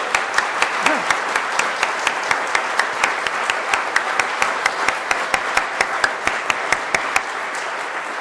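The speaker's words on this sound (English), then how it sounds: "Give this gentleman a round of applause." Audience applause at a Python developers' conference session, a steady sustained patter of many hands clapping throughout, fairly loud and close, with a brief voice cry near the start.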